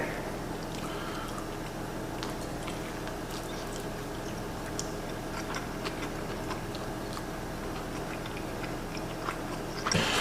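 Someone chews a bite of Hungry Howies pizza with Asiago crust, giving quiet, close crunching and soft irregular mouth clicks throughout.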